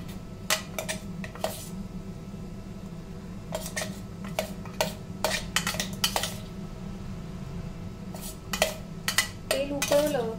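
A metal spoon scrapes and taps against a pan while curry leaf powder is stirred into oil, sharp irregular clinks over a low steady hum, with faint talk in the background.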